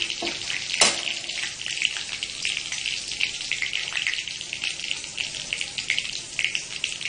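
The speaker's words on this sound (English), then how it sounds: "So to this I am going to add green chili and crushed garlic. Just saute it for a minute." Green chili and crushed garlic sauteing in hot olive oil in a pan for a vegetable pasta with tomato sauce: a steady close, hissing sizzle with small crackles and one sharper clatter near the start, no talking.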